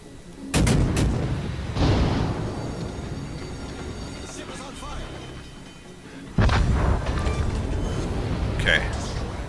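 Warship main guns firing in the World of Warships video game, two heavy booming salvos with rumbling tails several seconds apart, loud over a continuous game background, with a voice talking.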